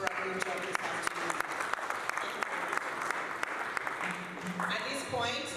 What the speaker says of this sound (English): Can we please all give my panelists a round of applause for a good job this afternoon?